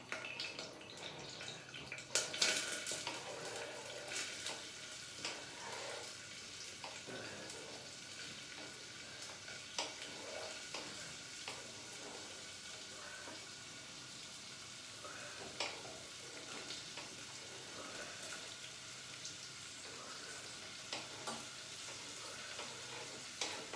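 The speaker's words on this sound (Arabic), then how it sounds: "faire sauter les légumes" Vegetables sautéing in a frying pan give a faint, steady sizzle with scattered soft stirring clicks and scrapes, continuing alone for the whole stretch.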